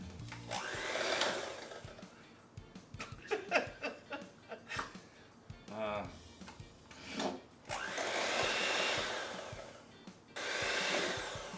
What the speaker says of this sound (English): And then we're gonna use the blender. Here we go.